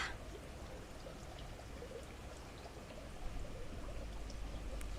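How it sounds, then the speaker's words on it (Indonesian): Aeration in a tilapia fish tank produces a steady, even wash of bubbling and trickling water, continuous and fairly faint throughout with no voices. "Ada proses aerasi untuk menembakkan atau menyuntikkan oksigen."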